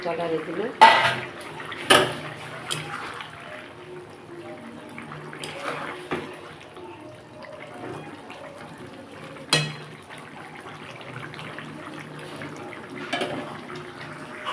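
Raw banana kofta balls go into a cooking pot of curry, giving a few sharp clinks and soft liquid plops spread apart over quiet kitchen background, with faint talk in between.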